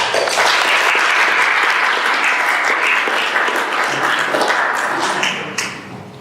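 Sustained applause from a conference audience welcoming a speaker on stage, loud and steady throughout before tapering off slightly at the end, with no talk over it.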